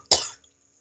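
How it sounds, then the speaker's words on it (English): A single cough, close and fairly loud, one sharp burst that trails off quickly into near silence, with no talking. "I'm about to cough"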